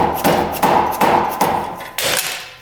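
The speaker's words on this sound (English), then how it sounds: "make sure all the bolts are off before we start hitting this thing" A hammer pounds a metal part on a UTV after its bolts are removed, about six loud, sharp blows at an uneven rhythm, close by with no talking.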